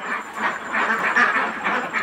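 A duck farm holding about 450 ducks, a dense chorus of quacking that overlaps continuously and sounds close and fairly loud.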